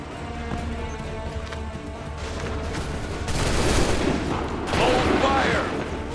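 In Assassin's Creed III, ranks of muskets fire in volleys on a battlefield, bursts of crackling gunfire and booms swelling twice amid shouted orders and ambient battle noise.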